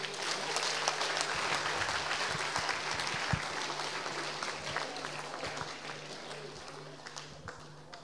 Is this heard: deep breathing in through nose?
no